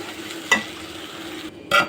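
Chili powder and chicken masala sizzle and are stirred in a hot pan for an egg sambar, with a steady frying hiss and two short, louder scraping stirs near the start and end.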